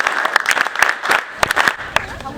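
An audience at a high school event applauds a student named Nkosazana, with sharp scattered claps and cheering under a speaking voice, brief and close.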